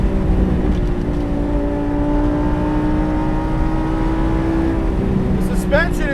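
A Lamborghini Performante Spyder engine pulls steadily in fourth gear, its rising harmonic drone sustained loud and close throughout with continuous wind and road roar, and a voice speaks briefly under the engine.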